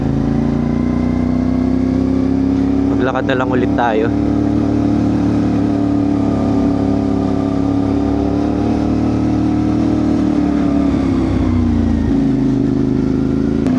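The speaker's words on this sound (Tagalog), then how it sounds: "Kaya magmotor tayo hanggang doon sa kung saan natin pwede iwan tong motor." A motorcycle climbs a mountain road in Lagawe, Ifugao, toward Mount Atugo, its mid-pitched engine droning loudly and steadily up close with brief revs, while a rider speaks over it.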